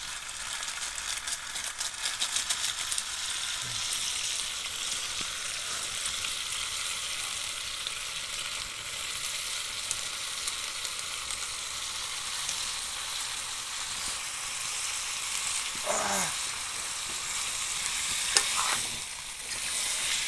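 Beef with spices stirred over a high flame in a village kitchen in Assam; a steady hiss of sizzling fills the scene, broken by occasional scrapes and clinks of the spoon against the pan.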